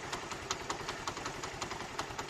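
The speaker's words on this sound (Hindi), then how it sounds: "एक किक मारनी है, बाइक आपका स्टार्ट हो जाएगा" A motorcycle that has just been kick-started idles with a steady, close, even chugging pulse. No voices are heard.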